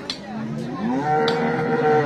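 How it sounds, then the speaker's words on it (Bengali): A cow at the Gabtoli cattle market for Qurbani lets out a long, loud, close moo with a rising low pitch that holds steady. Faint market noise sits beneath it. "বড় একটি গরু আসছে।"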